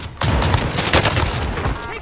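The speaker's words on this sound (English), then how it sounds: "Taking direct fire." Rapid bursts of close gunfire crack in Call of Duty: Warzone, a dense volley of shots and booms lasting about two seconds, with voices talking under it.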